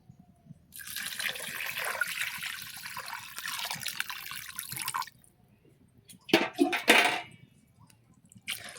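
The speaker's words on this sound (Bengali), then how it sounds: "জল ঢেলে দিই" Water is poured onto a newly planted tulsi plant, a steady splashing stream lasting about five seconds, then a short louder gush near the end, with no voices.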